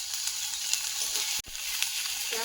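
Masala of ginger-garlic paste with turmeric, salt and capsicum sizzling steadily in a pan, a continuous close frying hiss with a brief break midway, no talking.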